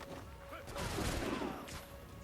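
A brief volley of gunfire in the Assassin's Creed 3 video game, a short burst of overlapping shots heard faintly behind game ambience.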